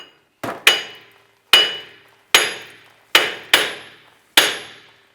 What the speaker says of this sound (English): We're going to go ahead and use a hammer and try and work the hub around the perimeter to get it loose from the knuckle.